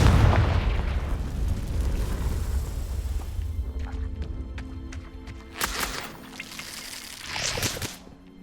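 A Confringo blasting spell explodes in the video game Hogwarts Legacy, a heavy roaring blast that decays over a few seconds, followed by scattered crackles and a couple of brighter whooshing bursts.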